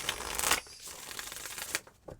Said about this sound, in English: So they want to shuffle a couple more times.